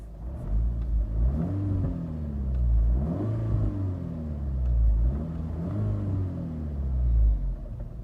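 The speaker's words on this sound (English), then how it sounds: "We'll do a couple revs inside, and then we'll do some revs outside." A tuned 500-horsepower APR Mk6 Volkswagen Golf R engine revs up and down repeatedly, rising and falling in pitch with a deep rumble, close and loud, no talking.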